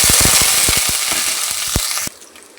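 Mustard seeds, curry leaves and onion hit hot oil for hotel-style sambar, giving a loud hissing sizzle peppered with quick popping crackles of seeds that stops abruptly after two seconds.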